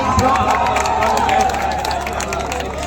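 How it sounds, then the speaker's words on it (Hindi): A crowd at a Bhojpuri comedy stage show in Buxar claps and cheers for a film star, a loud, dense wash of applause mixed with crowd babble and shouts. "आइए अमरीश जी के लिए एक बार जोर ताली बजाइए प्लीज"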